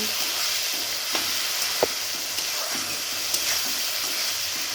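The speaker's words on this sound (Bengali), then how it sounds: "পটলকে দিয়ে কষিয়ে নেব।" Pointed gourd sautéing in oil in a pan for a fish curry, a steady close sizzle and frying hiss with occasional soft stirring scrapes.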